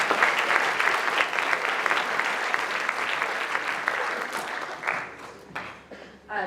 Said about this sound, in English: So I feel we should give him a round of applause.